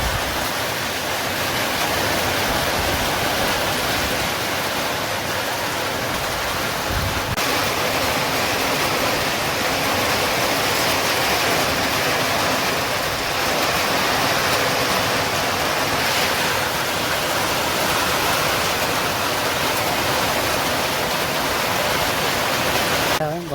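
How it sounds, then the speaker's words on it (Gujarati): Heavy rain pours down over a field of cowpea plants as a dense, unbroken roar of hiss that holds steady and loud throughout. "ઘણો બધો વરસાદ પડે છે"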